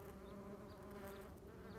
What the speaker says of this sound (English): These are Vespula vulgaris, and these yellow jackets are actually one of the most common wasps found in Europe